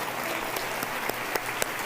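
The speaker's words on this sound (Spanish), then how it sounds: "Más fuerte el aplauso para el Señor" A church congregation applauding during a worship service, dense steady clapping with a few sharper individual claps cutting through, moderately loud and continuous, with no voices on top.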